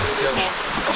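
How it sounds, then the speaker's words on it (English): Water at a creek waterfall in a state park in winter gives a steady, close rushing and splashing wash with no clear separate drips. "at water dripping right here."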